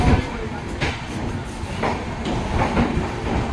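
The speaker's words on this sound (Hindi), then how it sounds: "संबलपुर सामने खड़ी है भाई Sambalpur Nanded express ICF coaches के साथ।" Sambalpur Nanded Express with ICF coaches, heard as a steady rumble of railway noise, with faint clacking pulses in the running sound and no voices.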